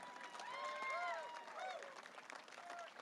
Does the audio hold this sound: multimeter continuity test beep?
no